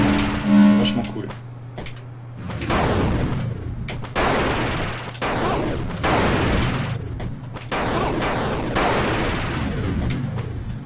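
A weapon fires in the side-scrolling game Axiom Verge, with a series of sharp bursts repeating every second or so, under a voice talking.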